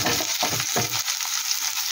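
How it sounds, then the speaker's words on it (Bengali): Chopped onions, cut small, hiss and crackle in hot oil in a wok, with a steady close sizzle and a few stirring scrapes early on, no voices. "পেঁয়াজটা একটু হালকা লাল লাল করে ভেজে নেব"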